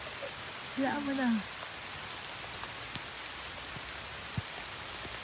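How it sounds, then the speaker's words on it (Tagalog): Rain falls steadily outdoors at a resort in Mabitac, Laguna, a constant close hiss of drops with a single sharp tap, while a person speaks briefly over it. "basang-basa na ako ng ulan"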